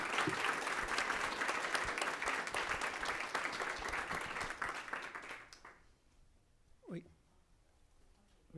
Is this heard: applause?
yes